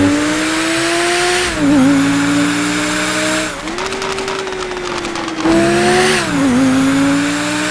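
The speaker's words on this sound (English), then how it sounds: "Man, this car is loud." A loud car engine revs and holds steady tones in GTA 5 while driving toward a mansion. The strong, harmonic drone rises and falls through gear shifts, with a rattling, crackling stretch in the middle and no voices.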